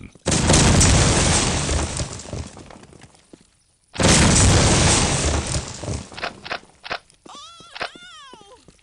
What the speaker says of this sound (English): Do as God intended and throw some grenades.